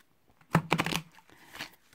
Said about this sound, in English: So I will shuffle these cards,